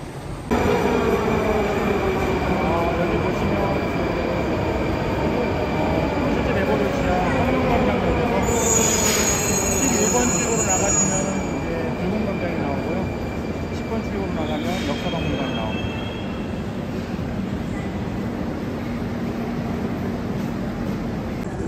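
A train rumbles through a central Moscow railway station, near the Aeroexpress airport train service, with high metal wheel squeals and a steady mechanical drone, while a voice briefly sounds in the background.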